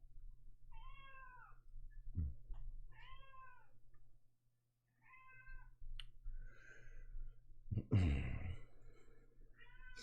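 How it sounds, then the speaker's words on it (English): A cat gives several drawn-out meows at intervals, close and moderately loud, with a brief silence partway through and a rough thump and rustle near the end. "Meow."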